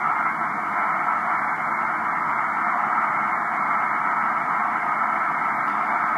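Shortwave radio band noise on 21 megahertz, heard through a narrow sideband filter, makes a steady, even hiss with no signal breaking through, constant and fairly loud for several seconds.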